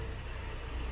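Steady low rumble of passing road traffic outside, a continuous engine-and-tyre drone with no distinct events, moderately quiet throughout.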